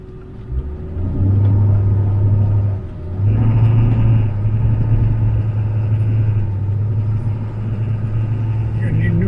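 A Ford F-350 pickup rumbles along a sandy snowmobile trail near Grayling, Michigan, its engine droning steadily with a brief dip and surge in revs, heard from inside the cab while people talk.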